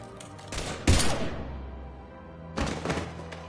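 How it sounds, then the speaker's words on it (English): Gunfire in a Mass Effect-style sci-fi shooter game, two short bursts of heavy close shots with a thudding impact, a lull, then another rattling volley, no talk. "Now open fire!"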